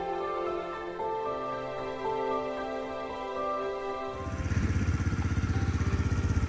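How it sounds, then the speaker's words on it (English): A WK Bikes 50cc scrambler motorcycle engine idles with a steady buzzing hum close by, then the throttle opens and it rises into a louder, rougher rapid putter, with no one speaking. "Little scrambler, 50cc."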